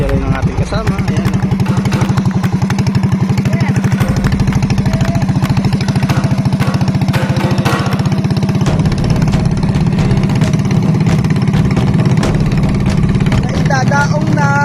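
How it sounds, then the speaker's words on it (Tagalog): A boat engine on Taal Lake runs at a steady, loud, close, throbbing chug with a fast regular pulse, and voices speak over it throughout. "Pinaandar na ang makina. Lalarga na."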